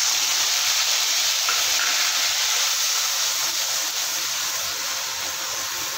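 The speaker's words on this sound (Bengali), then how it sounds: "আদা কাঁচা লঙ্কাটা আমি একটু ভেজে নিয়েছি" Ginger and green chili frying in a pan of oil, giving a steady, loud hiss and sizzle that runs unbroken from start to finish with no talk.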